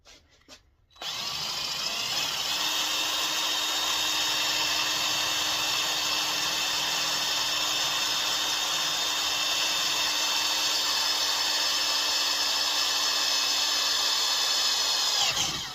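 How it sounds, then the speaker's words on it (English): A power drill bores steadily through metal while a chopper headlight mount is made, a loud, continuous whine holding one pitch for about fifteen seconds after a short quiet start. "Let's get this hole drilled first."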